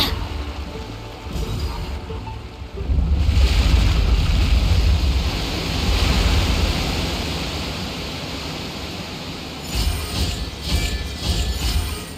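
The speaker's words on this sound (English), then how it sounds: "The water's flowed into the groove, and now the statues have lit up." Water rushes steadily into a stone groove in the Genshin Impact video game, a loud, continuous broadband flow that surges after a few seconds and keeps going throughout.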